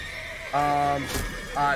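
Horses in The Witcher 3 video game whinny in two short, bright bursts amid a low ambient hum, the second call cut off at the end.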